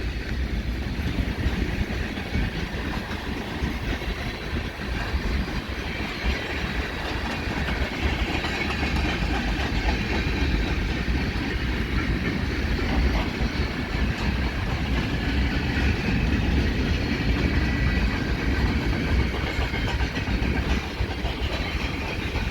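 A CN freight train rolls slowly past a VIA Rail station in London, Ontario, a steady rumble of wheels and clicking rail joints with engine drone underneath, close and continuous with no talk.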